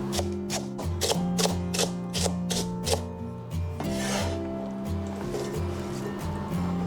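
A knife chops washed water spinach stems into rings on a board, a quick steady run of close, sharp thuds over a constant background hum, no talking.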